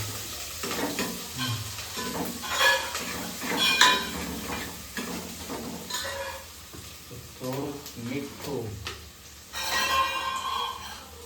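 Onion with ginger and garlic paste stirred in a pan for Gujarati pulav, a continuous loud sizzle with repeated scraping and clinking spoon strokes, close up, with a brief voice now and then.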